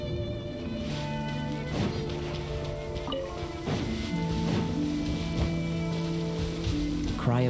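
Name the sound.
rain falling in the video game Genshin Impact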